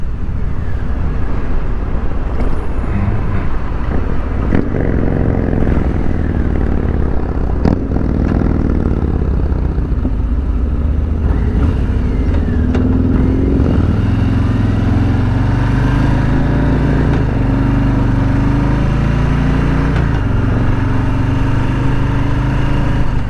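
Stock 2020 Harley-Davidson Street Bob V-twin riding along with its quiet factory exhaust, a steady low engine rumble climbing and settling through gear changes, close and continuous with wind noise throughout.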